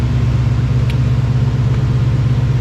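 A Ford Mustang engine runs on a dyno as a steady, loud, low droning rumble that holds even throughout, with no voices.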